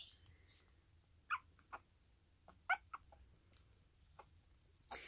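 Faint, high squeaks and tiny yips from a young Corgi puppy whose eyes have just opened come in scattered bursts over quiet background hiss, small and close, like whimpering.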